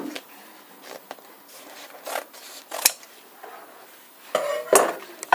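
Scissors cut carpet binding tape off the back of a carpet, giving a few close snips and rustling handling noises, with faint sounds between them and no talking.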